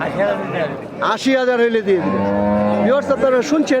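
A crossbred cow lows at the Kandapar cattle haat in Sirajganj, a long loud moo rising and falling close by, while someone talks over it and market chatter continues around.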